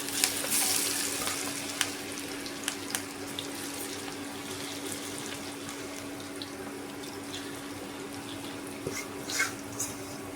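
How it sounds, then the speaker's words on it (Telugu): Cabbage pakora deep frying in hot oil gives a steady, close hiss and crackle with scattered pops throughout, and no one talks. "ఇలా రావాలి సౌండ్, అది వేగినట్టు, కరెక్ట్గా వేగినట్టు"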